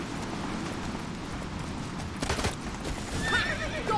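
Roach, Geralt's horse in The Witcher 3: Wild Hunt, gives a sharp whinny over the steady clip-clop of galloping hooves, with a louder burst of movement near the end.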